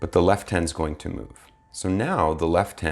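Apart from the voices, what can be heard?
None of the usual background noises is heard.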